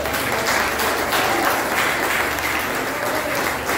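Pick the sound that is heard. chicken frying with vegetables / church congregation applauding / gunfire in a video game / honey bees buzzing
church congregation applauding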